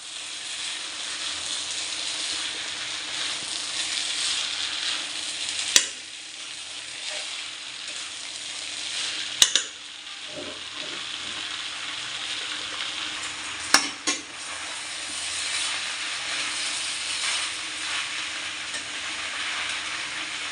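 Sago, lentils and potato fry in a pan for sabudana khichuri, a soft steady sizzle throughout with a few sharp scraping and knocking stirs of a utensil against the pan, no talking.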